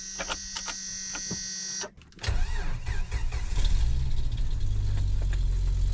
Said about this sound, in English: Fired right up. That's a bonus. Still rough idling.